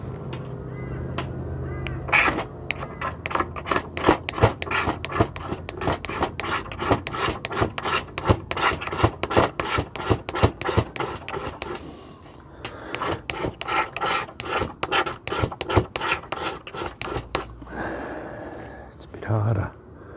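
A magnesium ferro rod fire starter block being scraped by hand, a dense run of rapid rasping strokes that pauses briefly midway and then resumes, loud and close, with some breathy voice sounds mixed in.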